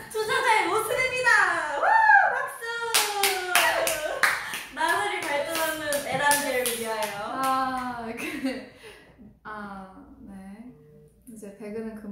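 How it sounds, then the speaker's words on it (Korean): Hands clap in a quick burst of sharp, close claps while two people talk and laugh, with the clapping sitting under and between their voices before the talk takes over. "우 박수."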